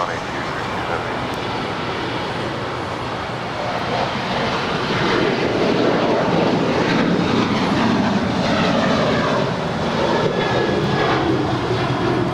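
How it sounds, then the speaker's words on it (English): United 737-800, a 22-year-old jet, taking off from LAX, its engines building into a loud, rising roar that swells midway and stays strong, with speech occasionally over it. "2361 departing to Houston. It's a 22-year-old 737-800."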